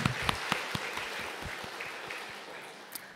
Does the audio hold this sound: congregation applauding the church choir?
yes